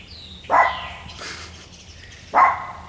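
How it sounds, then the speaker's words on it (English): A dog barks at a delivery man, two sharp loud barks spaced about two seconds apart, fairly close, with a quiet room between them. "Dog's barking at the delivery man."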